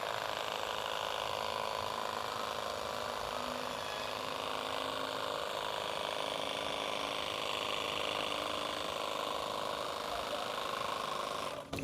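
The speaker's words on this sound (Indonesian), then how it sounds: "selanjutnya bisa langsung sobat semprotkan aja sobat ya, semprotkan ke tanamannya kurang lebih seperti ini" A hand sprayer mists amino acid fertilizer solution onto plants in one continuous, steady hiss lasting about twelve seconds, close and even, ending with a brief click, with no talking over it.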